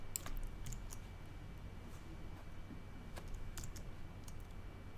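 Mouse clicks while drawing with the pen tool in Adobe software: quiet, scattered small clicks at irregular intervals over a faint steady hum, with no talk.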